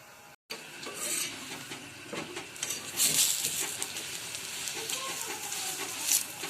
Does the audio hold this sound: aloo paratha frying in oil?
yes